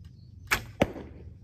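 A carbon fiber arrow shot from a Cabela's Thundor recurve bow: a sharp release snap, then a second crisp thud about a third of a second later, both close and distinct over a quiet background.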